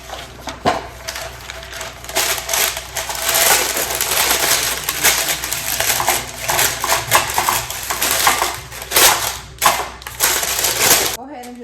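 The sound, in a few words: non-stick parchment paper lining a cake pan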